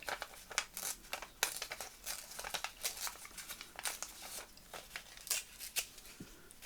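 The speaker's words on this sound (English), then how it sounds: "Let's tear that down there." Paper ephemera is torn by hand in a run of quick, close, crackly rips and crinkles, short bursts coming in irregular succession.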